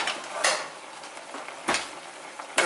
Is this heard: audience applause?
no